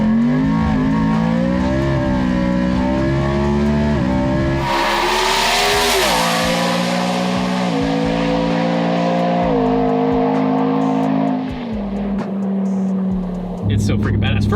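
A 1700-horsepower full-weight truck on medium boost accelerates hard, its engine note climbing through repeated gear pulls, loud and continuous from inside the cab, with people talking over it.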